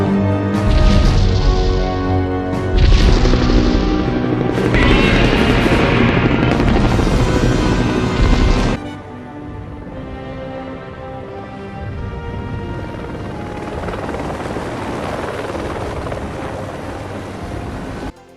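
Godzilla battle scene in a military attack: loud, dense orchestral music and explosive effects for the first half, then a quieter, sustained rumbling stretch of score and effects.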